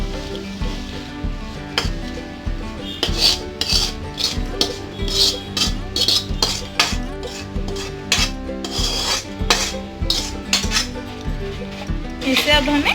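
Spiced tempering mixture being stirred into puffed rice (murmura chivda) in a bowl, giving a dry, steady rustling and scraping that runs continuously through the clip, close and fairly loud.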